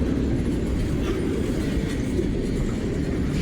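A train rolls past on the railroad with a continuous heavy rumble and rattling wheels, loud and close throughout with no voices.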